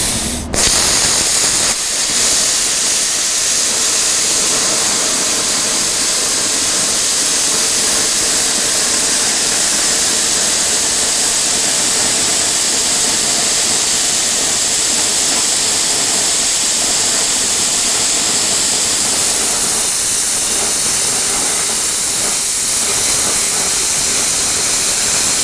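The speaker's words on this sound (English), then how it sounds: "when you're using your plasma cutter" Plasma cutter slicing through metal, a loud, steady roaring hiss that runs without a break after an abrupt start, with no talking.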